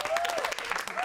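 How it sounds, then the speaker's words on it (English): Audience applause in a classroom-style science tutorial on DNA and the genetic code, dense steady clapping over a brief second, with a faint tonal whistle or voice line running beneath. "Give her a round of applause"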